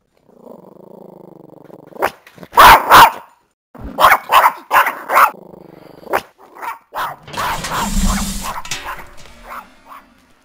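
A dog barks and growls in close, loud bursts, several sharp barks clustered together with rumbling growls between them, heard on its own without talk.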